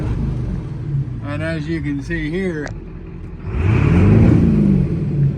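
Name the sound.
1979 Ford F250 6.0 Powerstroke diesel engine revving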